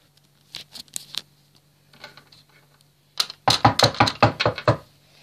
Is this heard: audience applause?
no